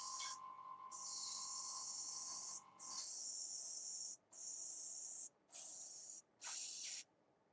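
An aerosol spray can hisses out a base color coat in several loud, close bursts, each a few seconds long with short pauses between.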